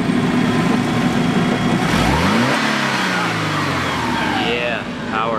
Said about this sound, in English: Hey Ryan, rev the engine.